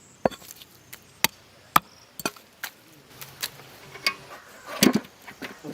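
A knife chops mutton bones in a series of sharp, hard thuds, spaced unevenly, with a cluster of quicker blows toward the end and faint background noise between strikes.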